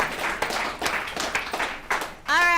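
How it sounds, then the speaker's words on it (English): Scattered clapping from a small recovery-meeting group of alumni, a brief round of hand claps that breaks off into a voice speaking. "Let's give ourselves a round of applause."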